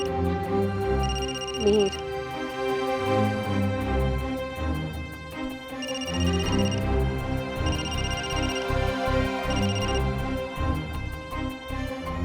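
A mobile phone ringtone in a domestic drama scene chimes in repeated melodic bursts over steady background music, with a short spoken word heard once.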